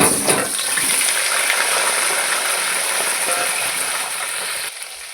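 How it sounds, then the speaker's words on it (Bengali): Potatoes frying in hot white oil give a steady, fairly loud sizzling hiss that runs the whole time, dropping slightly at the very end, with no talking. "তেলটা গরম হয়ে গেছে, এতে আমি আলু দিয়ে দিচ্ছি।"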